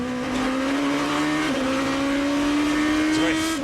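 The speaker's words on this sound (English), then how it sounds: "it's got an 8-into-1 exhaust system that really makes for an interesting note" Renault engine of a 2006 GP2 race car with an 8-into-1 exhaust, a loud, close, throaty high-pitched drone held steady, dipping briefly on a gear change and squealing faintly near the end, with commentary voices underneath.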